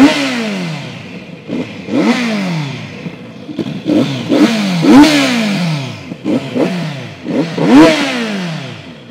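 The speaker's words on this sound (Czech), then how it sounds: "A ten zvuk, poslechněte si s námi." A Kawasaki Z900RS motorcycle engine with standard exhaust revving repeatedly, rising and falling in pitch in short bursts, loud and close with a rough exhaust note.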